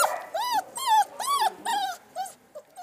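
Dogs and puppies at an animal shelter let out a run of close, high whining yelps and whimpers, about six rising-and-falling cries in quick succession.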